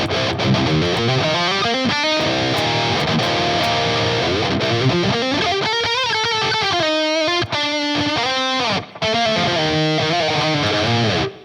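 A heavily distorted modern metal electric guitar with a touch of reverb plays dense chugging riffs and shifting chords, loud and continuous, with brief gaps near the end and no talking.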